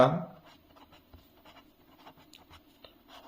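A pen writes on paper while an essay is drafted, steady scratchy strokes close up and fairly quiet, with a brief thud at the start.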